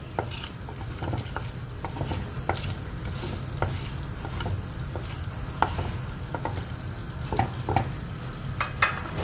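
Mustard and fenugreek seeds fry in hot oil for a garlic curry, a steady crackling sizzle broken by frequent small pops and light spoon scrapes as they are stirred.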